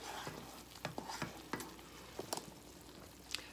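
A thick toffee mixture bubbles and sizzles quietly in a pan, with irregular soft pops and occasional scraping stirs.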